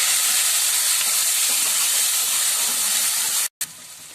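Grated ingredients sizzle hard in hot oil with a pinch of asafoetida in a pan while being stirred for chana saag; a loud, steady hiss runs throughout with a brief cutoff near the end.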